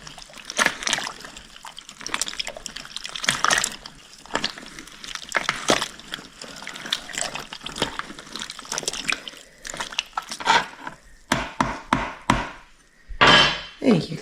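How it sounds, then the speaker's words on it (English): Maketaan preserve stirred in a pot: intermittent wet sloshing and scraping strokes at close range, coming in bursts with short pauses between them. "Give that one a stir."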